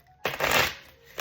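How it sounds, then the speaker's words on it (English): Tarot cards being shuffled by hand: a brief riffling burst of papery flutter, fairly close and moderately loud, followed by a softer tap as the deck settles, with no talking. "I'm going to shuffle one more time just to make sure."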